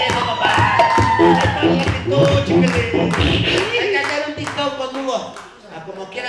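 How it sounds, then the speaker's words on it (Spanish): Applause with clapping and a crowd at a clown show in Mexico City, hands beating rapidly and unevenly, loud at first and thinning slightly toward the end. "Fuerte el aplauso para Hugo."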